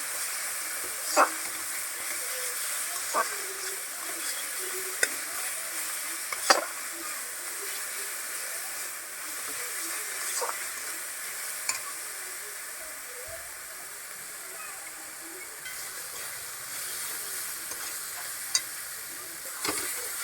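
Broiler chicken and red pumpkin fry in a pan while being stirred, giving a steady, close sizzle with occasional sharp taps and scrapes of the spoon against the pan.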